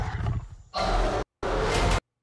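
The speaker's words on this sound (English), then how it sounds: "Ape Roars." A huge ape roaring in a Super Bowl movie trailer, two loud, close, bellowing roars separated by a brief silence, following a lower growling buildup.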